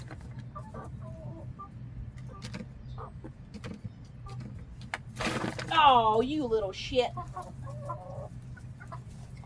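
Chickens cluck and squawk as one is lifted, a sharp flurry of agitated calls rising briefly midway over steady background noise, with a person talking nearby.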